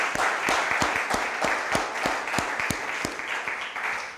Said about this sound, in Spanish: Dele pues un aplauso al Señor,